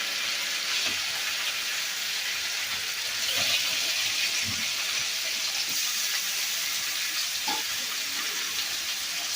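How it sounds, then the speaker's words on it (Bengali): Hilsa fish pieces are dropped one by one into fried mustard spice paste in a pan, giving a steady, close sizzle with bursts of crackling and hissing steam. "এইবার আমি এর মধ্যে ইলিশ মাছটা আমি এক এক করে"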